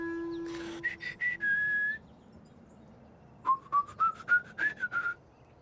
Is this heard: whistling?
yes